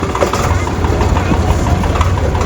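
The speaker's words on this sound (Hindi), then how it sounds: "उधर चल रहा भाई अल्टरनेटर, और अल्टरनेटर से चल रही है 2 मोटर इधर भी" An alternator drives two water pump motors on a farm, producing a dense, continuous engine drone with a steady low rumble and broadband noise, close and loud.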